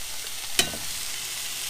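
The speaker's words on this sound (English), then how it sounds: "I'm just going to saute these a bit, make sure the onion, basically the onion gets done so it's not raw onion." Onions and sausage mix sautéing in a pan for a breakfast casserole, a steady soft sizzle with one brief clatter of a spoon stirring partway through.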